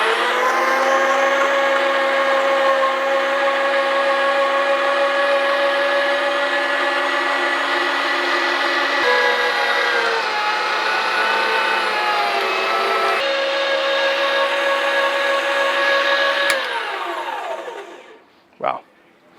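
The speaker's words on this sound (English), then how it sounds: "we're gonna start by grinding these up in our grinder, get the right consistency and texture" Electric meat grinder working through brisket flat and boneless short rib, a loud steady motor whine with shifting pitch that runs for about seventeen seconds, then winds down and stops, followed by a brief clack.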